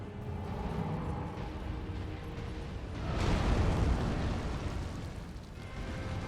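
A slow fireball detonates in a Spiked Knuckles video game round, a broad rumbling blast swelling partway through over a continuous low roar of game noise, with no voices.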